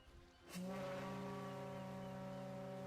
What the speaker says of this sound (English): The iconic Titanic horn.